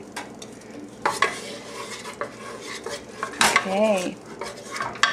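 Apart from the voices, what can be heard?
stirring food in a frying pan with a spatula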